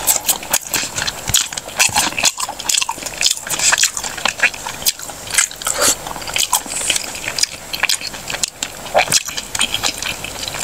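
Bites and chewing into a meat kebab, close and crunchy-wet, with repeated irregular biting and chewing sounds spread across the whole stretch, no talking.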